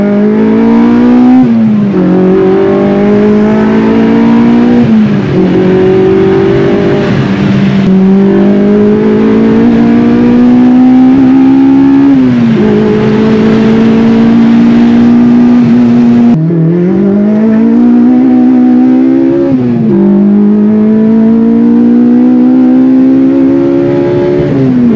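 A Honda Civic Type R engine revs repeatedly toward 9000 rpm. Each loud, close howl climbs steadily in pitch, then drops briefly at a gear change before rising again, with no talk over it.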